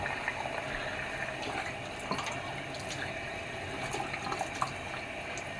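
Tap water runs steadily over a wet human hair wavy wig, saturating it before conditioner goes on, with a fairly soft continuous splashing that has a few small drips and spatters and no talking.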